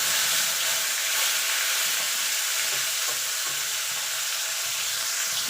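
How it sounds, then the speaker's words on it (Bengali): Koi fish, two pieces at a time, fry in hot oil with a loud, continuous sizzling hiss and spattering, heard up close without any talking. "প্রথমে মাছগুলোকে ভেজে নেব আমি দুটো দুটো করে ভাজবো"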